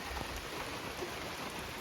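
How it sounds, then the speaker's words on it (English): Steady rain falls during a storm, a dense close hiss of drops on a surface with no voices. "Yeah, it's still raining, storming."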